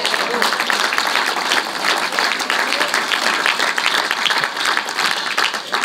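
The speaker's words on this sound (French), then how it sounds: "Acclamons." A church congregation applauds loudly and steadily, dense clapping filling the room without pause for several seconds.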